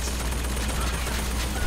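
Gunfire in the video game Bioshock Infinite, a dense and continuous burst of rapid shots, loud and close, with no pause through the whole moment.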